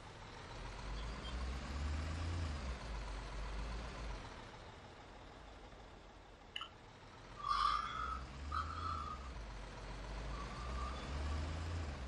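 A concrete pump truck drives in the Bausimulator 2015 construction game, its low diesel engine rumble steady throughout, with a few brief beeps and a short hiss near the middle.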